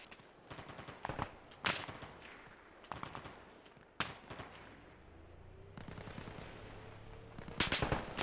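Bursts of friendly squad gunfire in the video game Arma Reforger, repeated sharp cracks and short automatic volleys at moderate distance, with a low engine-like drone underneath.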